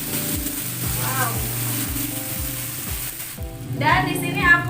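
Blended spice paste sizzles and fries in hot oil in a pan, a steady crackle under a repeating rhythmic knock, with a voice briefly heard and a louder burst of sizzling near the end.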